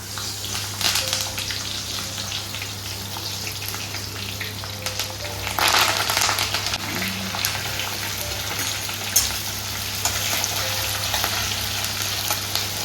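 Tempering spices such as mustard seeds, curry leaves, cinnamon and cloves sizzle in hot oil for a Rayalaseema fish curry, a steady close crackling fry with occasional pops and no talking.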